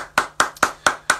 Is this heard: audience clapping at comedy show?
yes